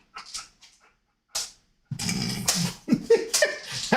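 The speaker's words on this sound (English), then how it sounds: "Very aggressive barking." A dog barks aggressively in short, loud bursts, with a few quieter yips first and then a sustained run of barking near the microphone.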